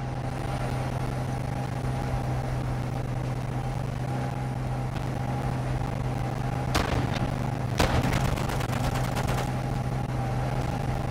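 Gunfire in the video game Call of Duty Modern Warfare 2, with a couple of sharp shots and a short rapid burst around the middle, over a steady engine-like drone of a tank on the battlefield.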